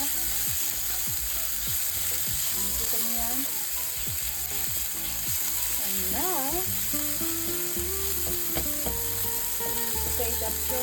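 Garlic sautéing in a pan for ginisang kalabasa, a steady close sizzle of frying oil with occasional stirring scrapes, while a voice talks over it.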